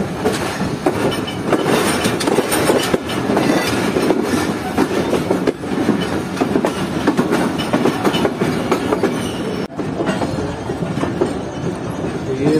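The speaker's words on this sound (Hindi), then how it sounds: "ट्रेन जो है हमारी वो प्लेटफॉर्म नंबर 1 की तरफ बढ़ रही है जो कि हैदराबाद जंक्शन का मेन प्लेटफॉर्म है" Tezgam train of Pakistan rolling into the main platform at Hyderabad Junction, a loud, continuous rumble of wheels and carriages with steady clatter and occasional squeal, close and sustained throughout.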